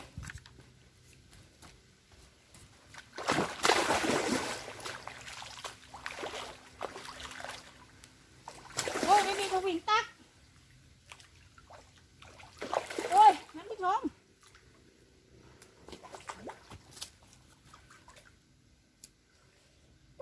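Large pompano fish feeding in a garden ditch, making a few loud, brief splashes between quiet stretches, with people talking in the background.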